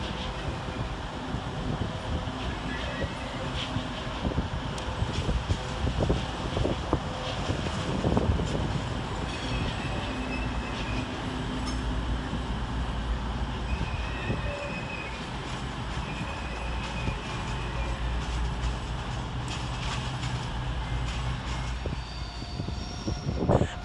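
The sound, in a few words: East Midlands Railway train arriving at London St Pancras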